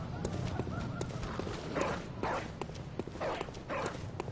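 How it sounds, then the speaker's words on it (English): A dog barking in the dark gothic game Bloodborne, several mid-distance barks spaced about half a second apart, fairly faint against a steady low background. "I'm hearing a doggy"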